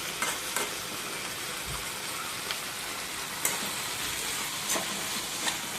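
Vegetables sizzling and frying in a pan, with a steady broadband crackle and occasional clicks of stirring, continuous and close with no talk.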